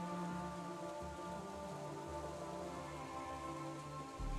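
Steady rain patters as a dense, even wash of noise, faint and continuous, with no voices over it.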